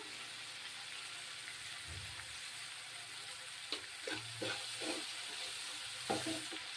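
Tomatoes frying in a pan with salt, a low intermittent sizzle with soft stirring clicks and scrapes near the end, quiet and close, no voices.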